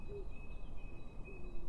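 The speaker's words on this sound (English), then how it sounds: "Boy, that is a very loud owl." An owl hoots in Resident Evil 7, a soft low call heard twice against a quiet ambient game backdrop, with a thin high electronic tone running through.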